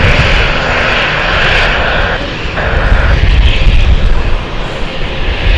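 Loud, continuous roar of aircraft engines as planes taxi at London City Airport, a sustained broadband rumble that swells slightly toward the end, with no talking.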